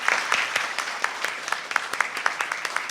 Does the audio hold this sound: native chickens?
no